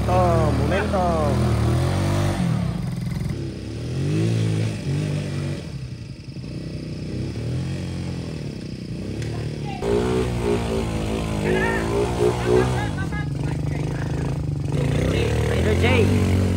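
A Raider 150i motorcycle engine revs repeatedly, its pitch sweeping up and down in bursts, loud and close, while people shout and talk excitedly over it.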